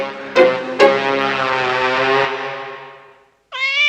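A cat gives a long drawn-out meow that is loud and close, with two sharp clicks near its start, then fades away; after a short silence a second bright, rising meow begins.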